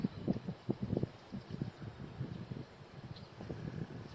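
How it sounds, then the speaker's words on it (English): Low, gusty rumble of wind buffeting outdoors, rising and falling in uneven bursts with no voices. "I see it's still nice and windy out today."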